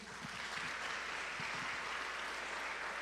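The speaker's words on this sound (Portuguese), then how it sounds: "Aplauda Jesus." A church congregation applauds steadily during a service, a dense wash of clapping sustained for a few seconds without talk.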